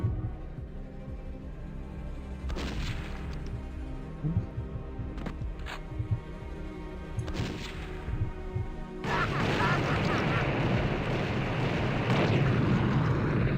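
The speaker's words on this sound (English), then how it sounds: "Love you some build engine explosions," Explosions in a Build engine video game, with several sharp booming blasts over a constant low game rumble, then a louder, sustained roar of noise in the final seconds.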